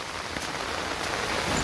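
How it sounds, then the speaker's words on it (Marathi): Heavy evening rain pouring steadily onto surfaces in the Konkan, a dense, continuous roar of drops, loud and close with no pauses. "1-2 तास झाले पाऊस जोरदार पडतोय"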